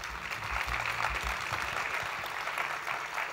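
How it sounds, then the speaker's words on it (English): Forum audience at the ST Education Forum 2019 applauding steadily for several seconds, a dense wash of clapping at moderate distance with no voices on top. "Please give yourselves a big round of applause as well."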